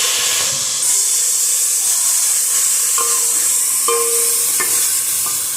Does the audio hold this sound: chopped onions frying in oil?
yes